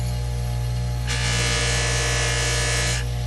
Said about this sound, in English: If you find when you're using the bench buffer with a white compound, if you find you get a lot of black gunk on your jewelry